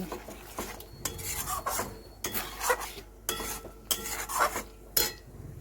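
A utensil scrapes and stirs through jackfruit and potato curry in a pan in repeated strokes, with a faint sizzle between them. Nobody speaks.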